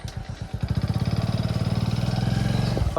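A motorcycle engine idling close by, with a steady rapid putt-putt thumping that settles into an even rhythm after a rougher start.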